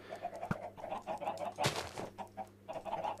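Chickens in Minecraft cluck repeatedly in short bursts, fairly quiet, with a few louder game sounds mixed in and no talking.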